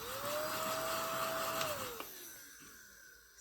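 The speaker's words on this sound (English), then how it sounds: "let's get my vacuum" A household vacuum cleaner runs with a steady, loud whirring drone and a tonal whine that drops in pitch, then cuts off as the motor is switched off and spins down, ending in near silence with a faint click.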